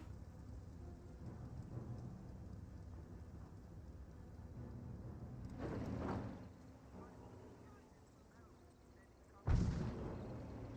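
Gunfire in the World War II strategy game Company of Heroes: a distant muffled boom around six seconds and a sharper, louder shot near the end, over a low rumbling battlefield ambience with faint talk.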